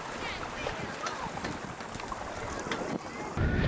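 A small sailing boat moves along the River Deben with water washing against the hull and wind buffeting the microphone in a soft, fluctuating rush. The sound grows louder at the very end.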